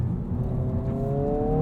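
A 2022 Honda Civic Si sedan engine hums steadily while driving, with a smooth rising whir and faint road noise, close and continuous without any talk.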